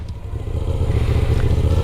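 A motorcycle engine close by gets a little gas, a low throbbing idle rising into a steady, slightly stronger rumble, with no talking.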